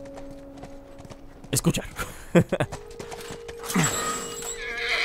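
A horse in the video game The Last of Us gives a loud neigh and snorts, with hoofbeats clopping in irregular bursts; someone talks over it.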